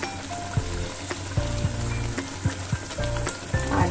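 Spice paste for a Bengali duck egg curry sizzling and frying in a pan, a steady crackling hiss broken by regular knocks and scrapes of stirring, close and alone.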